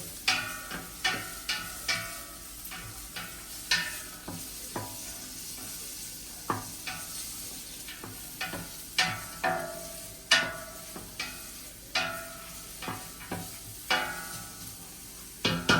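Onion stir-frying in a pan for pansit bihon gives a steady soft sizzle, broken by regular scraping, clinking strokes of a utensil against the pan, close and fairly quiet, with no talking.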